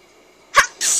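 A single sharp human sneeze, close and loud, with a quick intake followed by a hissing burst, alone against near silence.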